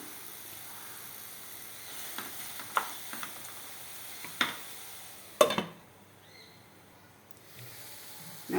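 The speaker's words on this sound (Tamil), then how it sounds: "சேர்த்து இன்னொரு தடவை நல்லா கிளறி விட்டு மூடி விட்டலாம்" Fried potato poriyal being stirred in a pan: a quiet background sizzle with scattered scraping and clinking strokes of a spoon, a sharper knock near the end, then the frying settles to a faint hiss.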